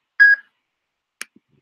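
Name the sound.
voicemail recording beep tone on a phone call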